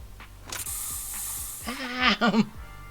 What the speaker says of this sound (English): Here, have a taste of this special Bangpoo spray.